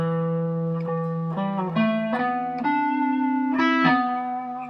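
Mellow, rounded guitar notes plucked over the fingerboard one after another, each ringing with a soft, hollow, clarinet-like tone, close and clear with no voices.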